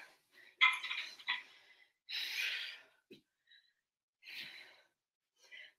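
Heavy, ragged breathing after a squat set: several loud, forceful exhalations and gasps close by, separated by short silent pauses, with no speech.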